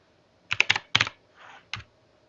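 Fingers tap a computer keyboard in a short burst of about six crisp, close keystrokes, followed by a softer rustle and one final key press.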